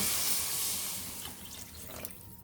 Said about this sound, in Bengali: এখন আমরা পরিমাণ মতো জল দিয়ে দিব।